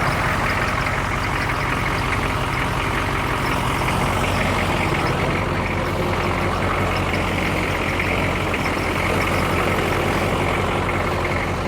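A 1988 Chevrolet K5 Blazer with a 6.2 diesel idles in a snowbank, a loud, continuous low diesel clatter and rumble heard up close, steady throughout with no talk.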